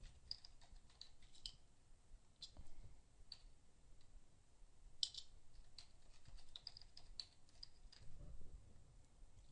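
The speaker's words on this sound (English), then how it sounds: "let's type in Facebook." Faint, sparse typing on a computer keyboard, with scattered key clicks and occasional sharper taps over a quiet room background.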